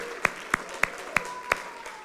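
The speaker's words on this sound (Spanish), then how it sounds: "Dale un aplauso" A church congregation claps in unison, five sharp, evenly spaced claps in a steady rhythm over a faint, quiet room background.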